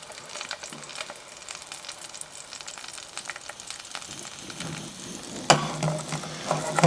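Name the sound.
blackfish fillets sizzling in a frying pan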